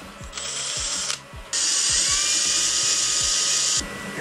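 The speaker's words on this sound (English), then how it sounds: "I'm also borrowing my dad's drill and drill bits." An electric drill bores a small hole in a 3D printed clock gear part, whining high and steady in two bursts with a brief pause between, over a faint rhythmic ticking.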